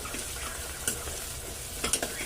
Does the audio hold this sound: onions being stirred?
yes